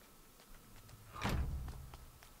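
Door shutting in A Plague Tale: Innocence, a single muffled thud-slam partway through, moderately distant, over a quiet ambient background.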